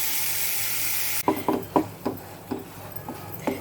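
Rice flour being dry-heated and stirred in a pan for an Onam palada payasam: a steady hiss at first, then a series of distinct scraping strokes, close and moderately loud.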